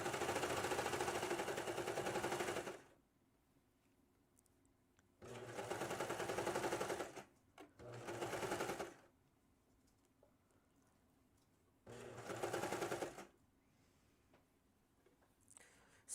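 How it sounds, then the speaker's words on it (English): Sewing machine stitching the shoulder seam of a cowl-neck T-top, running in three loud, steady bursts of about two to three seconds each, with a short stutter in between and quiet pauses separating the runs. "So when you're sewing one side of this, you can't help it, but you're going to have the seam"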